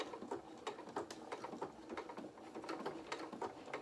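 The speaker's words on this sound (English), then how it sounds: "I'm just going to start stitching now." A sewing machine runs close and fairly quiet, stitching an acorn outline onto doll apron fabric with a fast, even mechanical patter of needle strokes.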